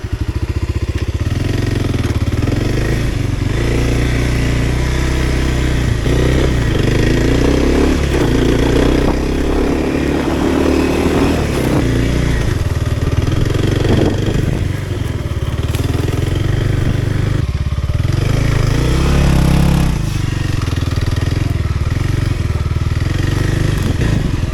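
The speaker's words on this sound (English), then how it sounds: "you'll be surprised at how fast this bike goes, considering it's a trail bike" A 2025 Kawasaki KLX 300R trail bike runs a top speed test, its single engine droning loud and close as it pulls hard through rising revs with brief dips between gears, and wind noise throughout, with no talking.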